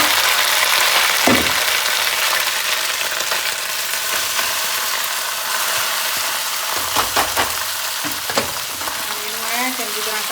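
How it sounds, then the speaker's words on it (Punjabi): Rice hits a sizzling pot of hot oil with cloves for sweet rice, giving a steady loud frying hiss broken by a few scraping stirs and clatters of the spoon. "ਚਲੋ ਜੀ ਹੁਣ ਆਪਾਂ ਇਹਦੇ ਵਿੱਚ ਪਾ ਦਿੰਨੇ ਚੌਲ"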